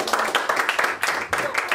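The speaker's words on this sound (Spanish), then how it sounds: "Denle un aplauso a Jesús." A church congregation applauding, with quick irregular clapping from many hands filling the room at moderate loudness, mixed with voices throughout.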